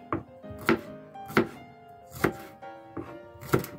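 A knife roughly slicing shallots and galangal on a cutting board: six evenly spaced thunks roughly every seven-tenths of a second, close and clear, with no talking.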